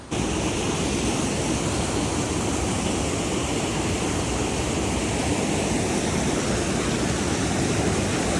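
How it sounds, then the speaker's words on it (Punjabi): Steady, loud rush of a waterfall near Manali fills the whole clip, a dense broadband roar with no pauses and no voices. "ਇਹ ਸਾਰਾ ਪਾਣੀ ਉਹ ਵਾਟਰਫਾਲ ਤੋਂ ਹੀ ਆ ਰਿਹਾ ਹੈਗਾ"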